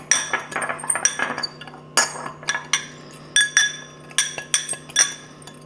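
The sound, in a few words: mixing dry spice ingredients for pork rub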